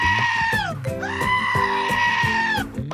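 A goat bleats loudly and close by in a movie scene, with two long, wavering, strained cries that end in a brief clatter.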